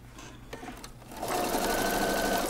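A sewing machine runs steadily along a fabric seam for a sewing pattern, its fast, even motor whir starting after a quiet moment and continuing loud and close to the end, with no talking.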